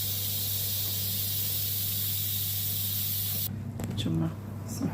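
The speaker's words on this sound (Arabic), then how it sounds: "كي كتجي باش يخرج البخار" Steam hissing from chicken roasting in an oven, a loud, continuous spray-like hiss that cuts off abruptly near the end, leaving faint clatter and a voice speaking.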